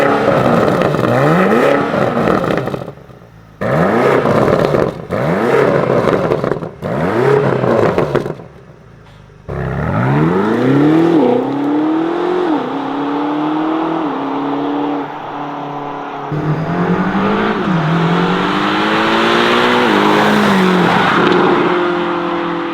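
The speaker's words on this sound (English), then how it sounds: "give me some revs" A 2024 BMW XM with Racewerks downpipes and stock exhaust revs hard in repeated loud bursts with pauses between, then sustained high revving and pitch sweeps as it accelerates, exhaust roaring up close.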